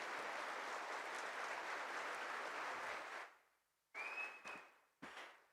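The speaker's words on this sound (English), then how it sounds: "A huge round of applause, ladies and gentlemen." Audience applause at a spiritual festival gathering, a dense steady wash of clapping for about three seconds that fades out, followed by a few brief bursts of sound after a short pause.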